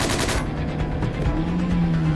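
Bursts of rapid automatic gunfire in the video game Quantum Break, a dense rattling volley over a low rumbling engine drone, with no talking.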